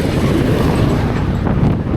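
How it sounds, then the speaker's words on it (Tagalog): Loud, steady headwind roars and buffets the microphone during a road loop ride, a continuous low rumble that fills the whole moment. "Lakas ang hangin."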